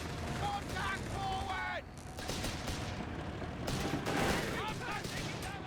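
Heavy machine gun fire and scattered gunshots in a Company of Heroes 3 one-versus-one battle, continuous and busy throughout, mixed with battlefield mechanisms and game effects, with no talk over it.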